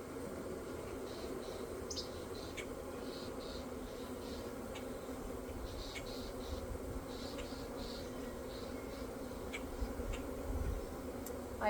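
A honeybee colony hums steadily inside an opened hive after smoking, a continuous mid-pitched drone that stays even and close throughout, with scattered faint higher buzzes of individual bees flying near.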